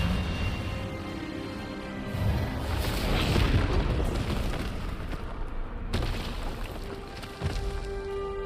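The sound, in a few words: Expelliarmus spell blast in the video game Hogwarts Legacy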